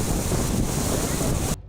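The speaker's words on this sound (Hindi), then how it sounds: "साई साई करती तेज हवाओं के साथ बारिश भी शुरू हो गई" Cyclone Yaas on the coast of Odisha and West Bengal brings loud, roaring whooshing wind with rain and crashing sea waves, a dense, continuous blast that cuts off abruptly near the end.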